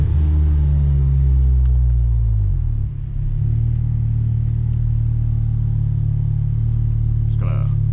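Modified Audi S3 driving from inside the cabin, a loud steady low engine rumble with a brief dip in drone around the third second and a short clunk near the end.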